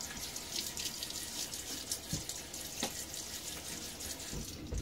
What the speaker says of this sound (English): I'm going to throw a little water on my face